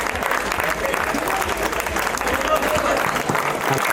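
Audience at a hostel farewell celebration in Kadapa clapping loudly and continuously, a dense wash of applause with voices mixed in throughout.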